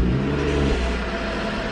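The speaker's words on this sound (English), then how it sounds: "Here is a startup, I guess a cold startup," BMW 435i with a stage 2 tune, Valvetronic exhaust and catted downpipe, idling or revving after a cold startup; a steady, fairly quiet engine drone with low rumble, close by and with no talk.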